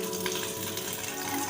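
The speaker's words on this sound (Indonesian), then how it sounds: "mencuci tangan dengan sabun di air mengalir" Tap water runs steadily during hand washing with soap, a continuous broadband rush and splash with no pauses and no voices.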